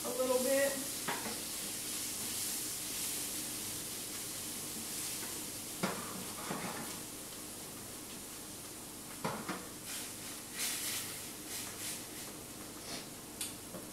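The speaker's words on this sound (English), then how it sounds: "the chickpeas can kind of just sit in here, not too long, to sear a little bit" Chickpeas searing in a seasoned pan, a faint steady sizzle broken by scattered clicks and utensil knocks as they are stirred, fairly quiet and without talk.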